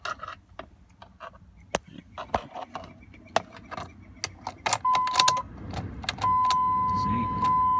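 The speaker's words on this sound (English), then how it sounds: "Go to start up the Jeep so I can defrost it a little bit more work. But unfortunately, it doesn't want to start." A Jeep Liberty that will not start on a cold, frosty morning: keys jingle and sharp clicks and taps sound up close, then a steady electronic warning chime, with no engine cranking.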